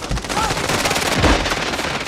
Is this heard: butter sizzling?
no